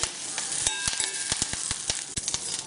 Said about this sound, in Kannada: ಕರ್ಬೇವಿನ ಸೊಪ್ಪನ್ನು ಹಾಕಿ ಸ್ವಲ್ಪ ಹುರಿಯಿರಿ